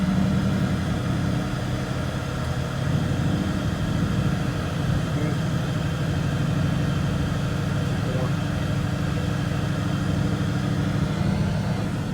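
A manual stick-shift car, driven by a young learner, runs at low speed with a steady, even engine hum and road noise filling the cabin for several seconds.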